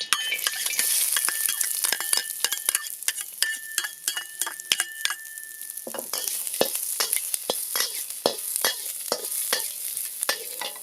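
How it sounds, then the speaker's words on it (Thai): Garlic, onion and chili fry in oil in a pan for a fried egg salad, under a bright sizzle with rapid, repeated clinks and scrapes from the stirring utensil, close and fairly loud. "แล้วเราก็ใส่กระเทียมหอมใหญ่ แล้วก็พริกลงไปเลย"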